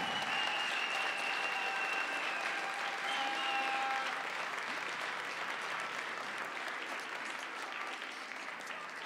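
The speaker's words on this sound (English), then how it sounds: "please give a round of applause to your home shooter, Janos Bolgár." Sustained crowd applause in an arena for a home-country shooter finishing fifth in the junior men's 10m air pistol final at the European Championships in Győr, Hungary, steady and dense throughout, easing slightly toward the end.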